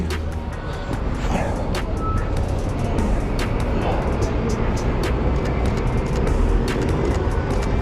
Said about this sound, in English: We'll just wait for that bus to go.